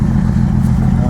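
A carbureted Datsun 240Z engine idles at about 1,000 RPM with a steady, low, even rumble, close and continuous throughout.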